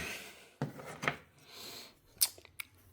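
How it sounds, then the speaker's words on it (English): A metal blade scrapes a 3D print off a print bed in a small print farm, giving a few short, close scraping strokes with quiet gaps between them. "I'm going to scrape this right off"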